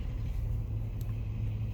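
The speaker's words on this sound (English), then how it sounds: "Sorry about all the traffic noise" Steady low traffic rumble from passing road vehicles, continuous and moderately loud near a roadside spot, with no distinct single pass standing out.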